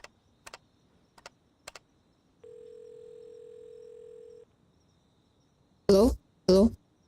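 Telephone dial tone, a single steady electronic tone held for about two seconds after a few faint clicks, followed by two short bursts of voice; quiet, sparse surroundings.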